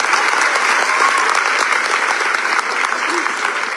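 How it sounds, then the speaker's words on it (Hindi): An audience in Lucknow gives its guests loud, sustained applause, a dense, steady wall of clapping that carries on throughout with voices faintly mixed in. "इनके लिए जोरदार ताली बजाइए।"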